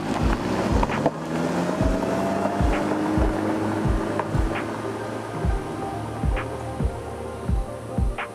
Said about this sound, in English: we're crossing a river on a barge driven by an outboard motor, 40 horsepower